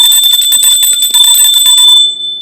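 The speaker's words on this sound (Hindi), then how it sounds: "इस तरह से घंटी बजा देंगे" A bright, rapid ringing of a small metal puja bell, repeated strikes for about two seconds, then a lingering tone as it fades.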